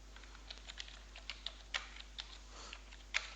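Someone types on a computer keyboard while entering accounting data into an Excel sheet. Light, irregular key clicks come in short bursts at close range, fairly quiet against a low steady hum, and no one speaks.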